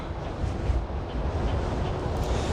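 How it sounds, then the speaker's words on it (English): Strong wind buffeting the microphone in a sparse city park in Queens, New York, a steady loud rumbling gust noise that fills the whole stretch without pause. "And it's so windy too."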